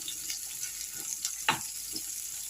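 A steady, quiet sizzle of vegetables frying in a pan for chorchori, with a few soft scrapes of stirring and no voices.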